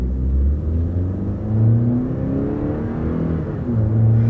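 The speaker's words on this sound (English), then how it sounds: "we'll come to a stop and now we'll do it in just regular drive" A Toyota truck pulls away from a stop in regular drive, its engine a loud, close rumbling drone that rises and falls through gear changes with no talking.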